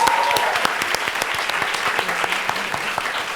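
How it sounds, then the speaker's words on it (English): Applause from the audience at a live podcast recording, with individual claps audible as sharp distinct hits within a steady crowd wash that thins slightly toward the end. "Let's give a round of applause."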